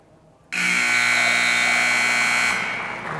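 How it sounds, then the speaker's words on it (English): A loud electronic buzzer ends a period of a high school wrestling match, sounding abruptly and holding a harsh steady tone for about two seconds before tapering off in the gym. "And as promised, nice and loud on the buzzer."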